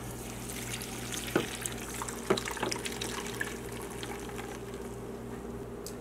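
Milk poured from a shaken carton for a dairy-free berry smoothie, a steady close liquid pour with a few small splashes and no talk.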